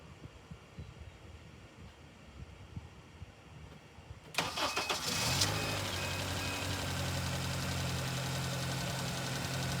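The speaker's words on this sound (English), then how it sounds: "I'll start the car." A Honda car's engine cranks and catches after a few quiet seconds, then settles into a steady, fairly loud idle with a faint rhythmic knock running through it.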